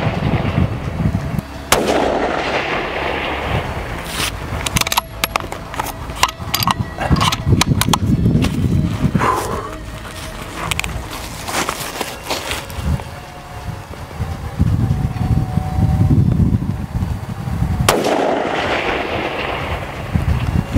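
A long-range sniper rifle shot at 1,060 yards hitting an explosive 3-inch target, heard outdoors as a sharp report and then a rolling distant boom under heavy wind buffeting the microphone, with no talking.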